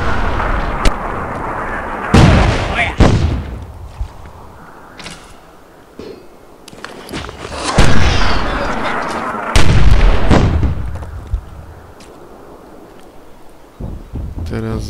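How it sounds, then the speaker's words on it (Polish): Explosions and mortar fire in the fantasy strategy game Myth II: Soulblighter, a series of sharp booming blasts at irregular intervals, some loud and close, with voices speaking in between. "Kule już podkładają materiały wybuchowe."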